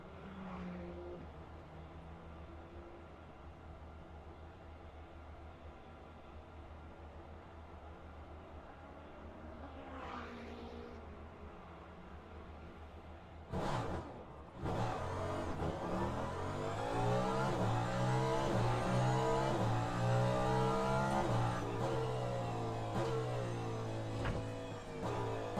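A race car in a racing game idles quietly at Portimao, then roars into life and revs hard, its engine note climbing and falling loudly as it drives away.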